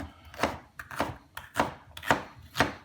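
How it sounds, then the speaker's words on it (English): A knife chops through orange bell peppers on a cutting board in a steady series of five crisp, close thunks, each about half a second apart, with no voices. "we're just cubing it up real nice"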